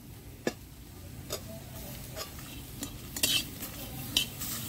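Onion with garlic paste, cumin and green chilli is stirred in a pan for an oil-free country chicken curry: quiet scraping and light utensil taps against the metal, fairly regular, over a faint sizzle.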